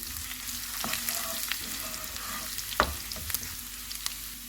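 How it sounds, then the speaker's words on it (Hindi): Cumin and ginger frying in hot oil for a daal tempering, a soft continuous sizzle with a few sharp crackles and pops scattered across it. "अदरक डालेंगे, इसको भी 30 सेकंड तक फ्राई करेंगे"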